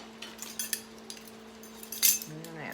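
Small metal dry measuring spoons clink and jingle as they're set down in a home kitchen, a few light bright taps spread across a couple of seconds over a steady low hum.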